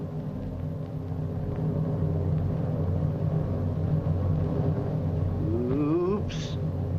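A Chevrolet car balanced on two wheels, running on a rugged steel box girder frame, drones with a steady low engine rumble, and a brief rising squeal near the end.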